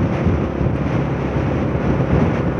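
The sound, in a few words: strong wind blowing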